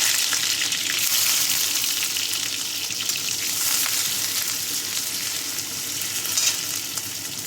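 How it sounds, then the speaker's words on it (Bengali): Chopped onion hitting hot mustard oil in a pan gives a loud, continuous close-up hiss of frying that holds steady throughout, with no talking. "সর্ষে তেল দিয়েছি, তেলটা গরম হয়ে গেছে, পেঁয়াজ দিয়ে দেবো"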